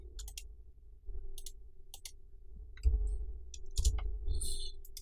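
Sharp, light mouse clicks repeat in small clusters at an After Effects workstation, close and fairly quiet over a low steady hum with faint muffled thumps.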